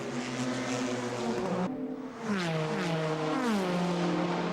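Porsche race cars at the 1997 Le Mans 24 Hours, loud engine whine with pitch sweeps as cars pass and shift, a sudden cut then another car's note rising and falling, continuous and close.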